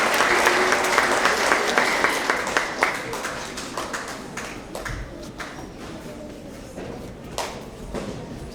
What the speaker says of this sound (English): let's give another round of applause for all of our roaring readers